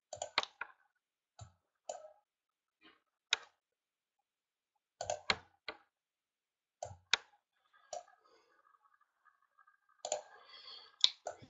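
Sharp, close computer mouse clicks come in small scattered clusters with quiet gaps between them, some single and some doubled, over about eleven seconds.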